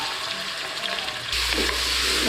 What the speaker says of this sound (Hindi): इसको तेज़ी से घुमाएंगे और भून लेंगे